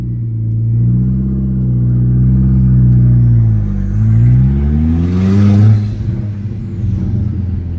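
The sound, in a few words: cheap manual car engine and turbo on test drive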